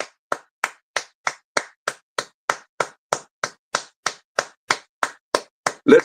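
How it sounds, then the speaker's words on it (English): Steady, evenly spaced claps from a small group, about nineteen sharp hits in six seconds, loud and close, as a morning show host rallies people, with no talk over them. "Come on, let's clap."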